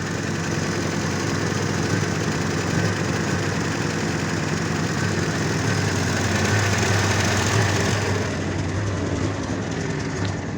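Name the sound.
GAZelle van engine idling with misfires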